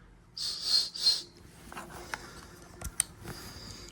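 A whistle built into the belt clip of a Motorola T600 two-way radio gives two short, loud, shrill blasts in quick succession, followed by faint clicks and handling noises.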